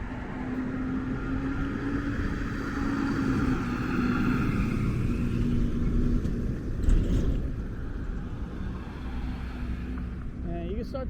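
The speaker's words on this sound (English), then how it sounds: "And this is a really busy truck route." Traffic on a busy truck route along 2nd Avenue in Brooklyn: a steady engine rumble and rolling road noise from passing vehicles, with a low droning motor tone, heard close by from the sidewalk.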